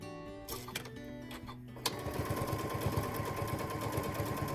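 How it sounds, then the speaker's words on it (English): A sewing machine runs steadily, stitching strips of fabric onto an egg-shaped piece, after a couple of seconds of brief starts and stops; the needle's rapid, even chatter is close and continuous. "So just keep on sewing until you have filled the entire egg shape."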